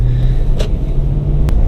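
Steady low engine rumble of a Lexus GX470 SUV driving around town, smooth and even throughout with a couple of brief faint clicks or knocks over the drone.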